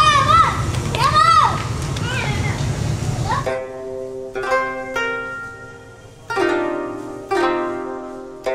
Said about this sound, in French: ces deux enfants qui jouent à l'extérieur contrastent avec la sérénité de l'endroit